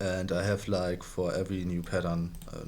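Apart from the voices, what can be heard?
None of the usual background noises is heard.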